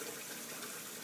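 Running water pours steadily into a baby's bath, a soft, even hiss close by with no voices.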